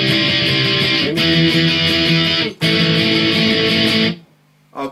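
Distorted electric guitar plays the chorus B riff of a song, loud and sustained chords with two brief breaks, then ringing to a stop near the end.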